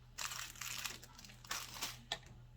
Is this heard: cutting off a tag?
yes